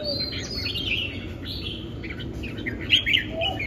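Caged bạch songbirds chirp and tweet in bright, scattered calls over a steady low background hum, close by and continuous with no talk.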